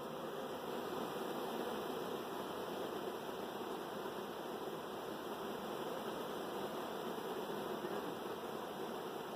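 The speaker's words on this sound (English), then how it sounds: "That's a lot of bees." A massive swarm of honey bees, tens of thousands strong and nearly a whole colony, moving into a mobile home, makes a steady, dense buzzing drone that holds at an even level throughout, with no voices.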